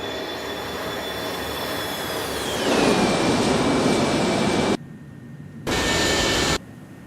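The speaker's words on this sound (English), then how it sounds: "How about we do another flyby?" An Airbus A300-600R freighter jet makes a flyby in the X-Plane 11 flight simulator, its loud engine roar and high whine dropping in pitch as it passes, then cutting abruptly in and out.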